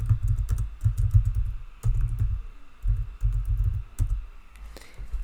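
Rapid clattering keystrokes on a computer keyboard while a parameter is named in Revit, arriving in close, loud bursts with short pauses between them and no talking.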